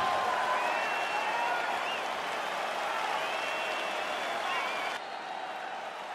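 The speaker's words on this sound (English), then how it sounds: "crowd getting excited as this fight gets underway" Arena crowd in the UFC 4 video game roars with sustained, dense cheering and applause at the start of a fight, a steady wash of noise that drops slightly near the end.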